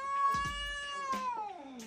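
A cat meows loudly and drawn-out several times at close range inside a house, with long wavering cries that rise into a yowling caterwaul, heard alone with no talk.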